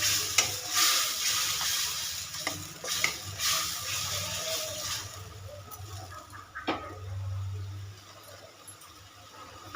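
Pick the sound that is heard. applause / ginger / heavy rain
ginger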